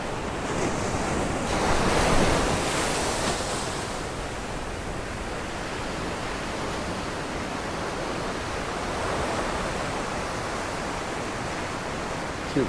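Ocean surf rolls and breaks off a river mouth at Doheny State Beach in Dana Point, California, a steady broad wash of waves with a swell early on, mixed with wind buffeting the microphone.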